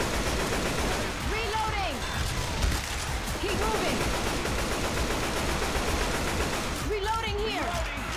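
Continuous gunfire fills a tunnel in the co-op zombie shooter Left 4 Dead 2, a dense rattling barrage with occasional louder bangs, as players talk over the chaotic battle noise.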